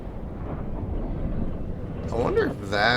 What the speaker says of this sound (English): It's a big old spice explosion.